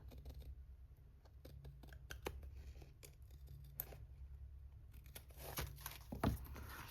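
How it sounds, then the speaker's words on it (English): Quiet snipping of scissors through paper, a run of small crisp cuts with light rustling, close by against a low steady hum. "I like these scissors when I'm like cutting something like this."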